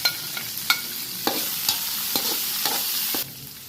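Red, bird's eye and green chilies sautéing with mussels in a pan, a steady bright sizzle punctuated by repeated stirring scrapes and clinks at an uneven rhythm, close and moderately loud.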